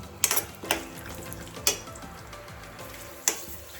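Raisins and cashews frying in ghee in a pan, a steady soft sizzle with several sharp clinks of a spoon against the pan scattered through it, no talking.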